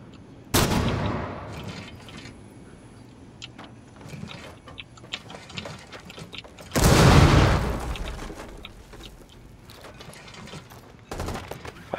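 A flashbang thrown in Rainbow Six Siege goes off with a loud, sharp burst, surrounded by game mechanism clatter and a second blast, with no talk.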